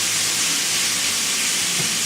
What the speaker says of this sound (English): You might wonder why I'm shaking the meat.